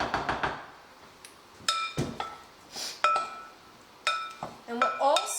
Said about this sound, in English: we're going to stir that up with a spoon